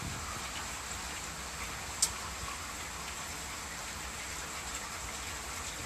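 Rain falls steadily during a mountain thunderstorm in the Rhône-Alpes region, a soft, even hiss heard from a distance with one brief sharp tap partway through.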